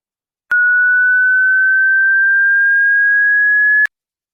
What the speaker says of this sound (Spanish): Ahora, el sonido de una onda de alta frecuencia.